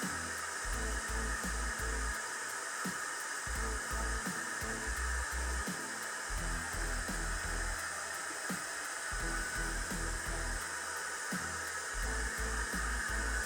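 A DevaFuser diffuser attachment on a hair dryer blows steadily while drying curly hair, a loud continuous whirring airflow with faint rhythmic rustling as it moves through the hair.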